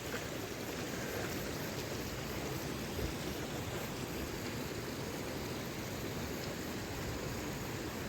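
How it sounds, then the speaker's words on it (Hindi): Floodwater still running hard after a heavy overnight rainstorm in Mori, where debris has washed onto the road; a steady, dense rushing roar holds at even loudness throughout, with no voices over it. "पानी अभी भी काफ़ी बह रहा है।"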